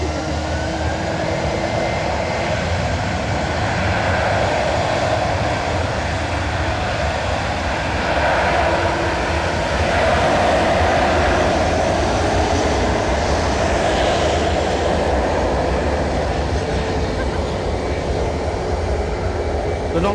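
Jet aircraft at Edinburgh Airport roaring through a takeoff or landing, a loud continuous broadband rumble that swells slightly midway, heard from a spotting position with a voice talking over it.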